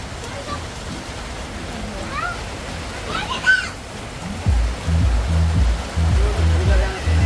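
Rain pours steadily outdoors as a broad, even wash of hiss with no break, while people talk nearby and a low voice grows louder toward the end.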